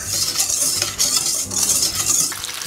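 Continuous scraping and swishing of a spoon stirring a dry mixture of sugar, cinnamon and table salt in a bowl, steady and close, in repeated circular strokes with no talking.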